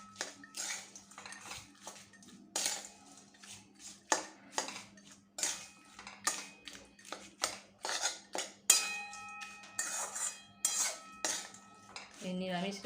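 A spoon stirring taro stem curry in a pan, with repeated metallic scrapes and clinks in an uneven rhythm, close and clear, continuing for over twelve seconds without talk.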